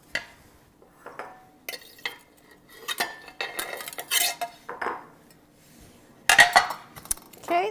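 Cilantro lime rice is dumped into a bowl with scattered spoon scrapes and dish clinks, a sharper clatter near the end, and no talking.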